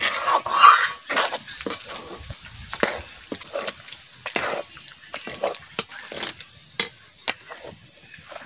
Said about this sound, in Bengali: এরকম নাড়তেই থাকতে হবে।